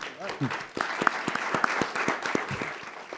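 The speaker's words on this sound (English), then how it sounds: "Give our candidates a round of applause." Scattered audience applause for mayoral and congressional candidates at a forum, moderately loud with distinct individual claps, and a voice speaking over it near the start.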